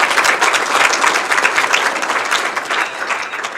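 Crowd at a touchdown club banquet and hall of fame induction applauds the Player of the Year nominees: loud, dense clapping from many hands, sustained and even, easing slightly near the close.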